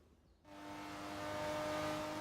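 A Mercedes CLK-GTR in Forza Horizon 3 pulling away on the street, its engine surging in abruptly and building to a steady loud, close drone with a high whine.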